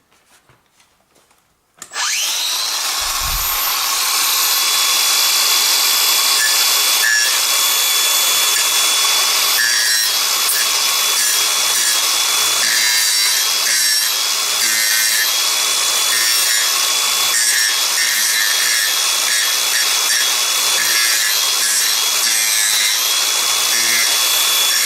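A Makita 18V cordless angle grinder sands a rusty spot, starting after a brief quiet moment and then running as a loud, steady, gritty whir with abrasive rubbing that continues unbroken and up close.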